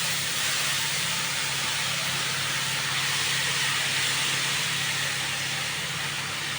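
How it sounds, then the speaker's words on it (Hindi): Chopped onions hit hot oil in a pan for a Sindhi-style potato and cauliflower dish, giving a loud, steady, even sizzle and hiss that holds throughout without a break. "अभी हम लोग ये कांदा डालेंगे।"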